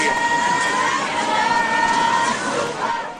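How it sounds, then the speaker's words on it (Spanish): A crowd shouting together in a sustained, dense roar, loud and continuous throughout, with a traditional chant-like cry rising above the mass of voices. "Ese grito es típico de la cultura del monarca"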